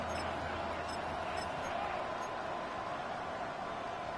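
A stadium crowd at an American football game between the Cowboys and Broncos keeps up a loud, steady roar late in the fourth quarter, a continuous wash of noise with no pauses.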